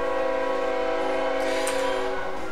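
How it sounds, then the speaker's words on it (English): Trains in the Pokemon Zeta video game rumble past with a steady mechanical roar and a long, sustained horn or whistle tone held loudly throughout. "Great. More trains."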